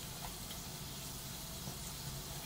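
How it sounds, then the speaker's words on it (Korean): Steady, dense sizzling and bubbling of bread frying in hot oil for shrimp toast, continuous and fairly close, with no talking. "확실히 아까보다 바글바글바글바글 소리가 나죠"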